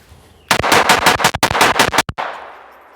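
A firearm fires a rapid string of supersonic rounds, roughly a dozen sharp, loud cracks in quick succession with a short gap near the end and a brief echo tail afterward.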